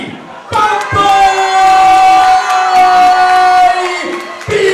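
A hybrid boxing crowd roars and cheers loudly for both fighters after a TKO finish, a sustained wall of shouting and whooping that swells and holds before easing off.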